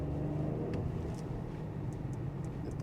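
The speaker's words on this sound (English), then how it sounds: "The V6 kind of sounds like a diesel when you're pushing it" Petrol V6 engine of a 2025 Audi Q8 revving with a deep, steady rumble, heard from inside the car, continuous with no talk.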